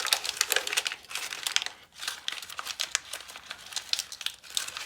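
A sheet of paper is crumpled and squeezed by hand close up, giving continuous crisp crinkling and crackling with a brief pause midway.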